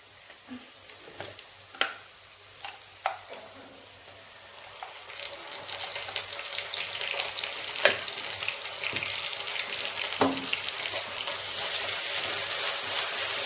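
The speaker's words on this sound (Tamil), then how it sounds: "இந்த டைமில் வந்து நம்ம இஞ்சி பூண்டு பேஸ்ட் போட்டுடலாம்." Ginger garlic paste sizzling with golden-browned onions in a pan, a steady frying hiss that builds over time, broken by a few sharp clicks and scrapes of stirring, with no talk.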